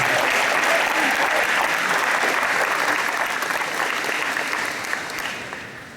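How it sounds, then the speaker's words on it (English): A crowd at a valedictorian speech gives a huge, sustained round of applause, thick and even throughout. Toward the end it slowly eases off. "can we just have a huge round of applause"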